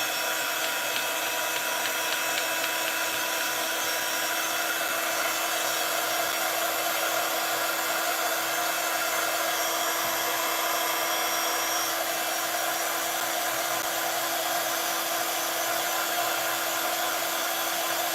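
Heat tool blasting hot air to dry cardmaking work, a loud, steady whirring hiss that runs unbroken from start to finish with no talk over it.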